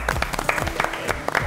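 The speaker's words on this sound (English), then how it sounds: "give yourselves a huge round of applause" A studio audience of pageant contestants claps energetically, brief uneven hand claps forming lively applause with a low background hum.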